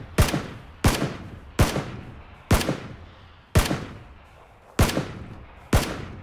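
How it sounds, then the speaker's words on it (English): Gunfire in the battle-royale shooter PUBG: seven loud, sharp single shots spaced roughly evenly, each with a short ringing tail, close and alone with no talking. "Are you shooting or is that him?"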